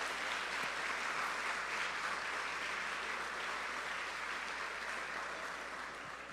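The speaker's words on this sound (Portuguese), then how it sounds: "dê um aplauso bem forte ao Senhor" Church congregation at a celebration service gives loud, sustained applause, a thick continuous roar of clapping hands heard from a distance, fairly steady and easing slightly near the end.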